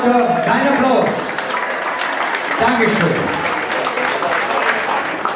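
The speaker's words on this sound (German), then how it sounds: "dein Applaus" Audience applause at a charity gala concert, a broad steady wash of clapping from a large crowd, with someone briefly talking over it at the start.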